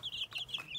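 Hens in a henhouse give brief, soft, high clucks in a quick run of calls, faint and close against a quiet background.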